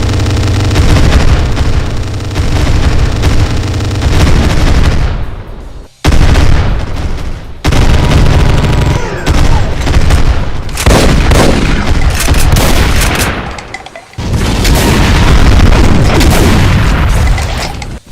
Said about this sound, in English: A much higher spread of explosive minigun shots.